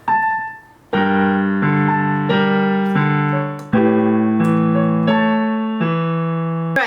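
Piano chords of a song struck one after another at a steady pace, each ringing out with sustained bass and warm harmonics, played alone without any talking.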